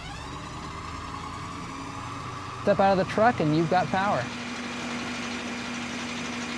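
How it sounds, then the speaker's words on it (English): A Ford F650 truck engine, a 2017 model carrying a 60 kW generator, runs at a steady idle hum throughout, with a brief stretch of someone talking over it partway through. "the engine will automatically ramp up to the right RPM."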